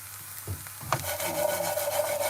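Homemade chickpea chips are stirred in a pan, giving close, dry scraping and rasping as the crunchy pieces shuffle against the metal, continuous and fairly even.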